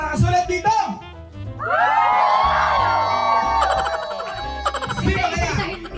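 A game show studio crowd erupts in loud shouting and whooping, a sustained roar of many voices with cheering peaks, close and intense, alongside individual yells.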